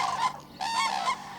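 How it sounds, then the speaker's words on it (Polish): A flock of cranes calling over autumn fishponds in the Barycz Valley, with loud, overlapping honking cries in several bursts, fairly close. "stada żurawi."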